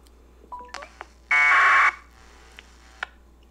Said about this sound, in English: It's a AX25 1200 baud message.